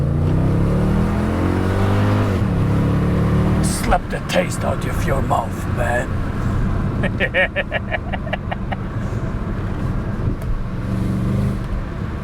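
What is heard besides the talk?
Mercedes-Benz CLS 55 AMG V8 engine revving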